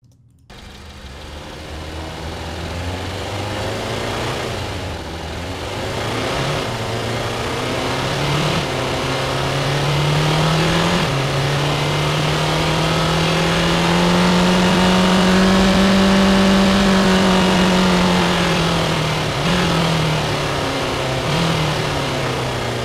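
A synthesized car engine, built with the Igniter plugin and driven by RPM automation, revs up and down in smooth sweeping curves, rising to a sustained high whine before easing back, heard alone and clearly.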